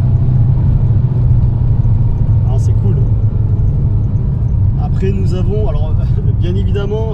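Cabin of a moving Mercedes 190 W201 at under 70 km/h, a steady low rumble of road and wind noise filling the car, with someone talking over it.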